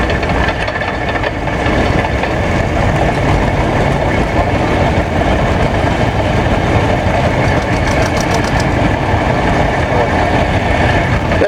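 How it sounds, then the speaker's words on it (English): A 1949 John Deere MC tractor runs at an outdoor club show, its engine a steady loud rumble throughout, with a voice announcing over it. "Here we have a John Deere MC, 1949, owned and driven by Pat Dieter."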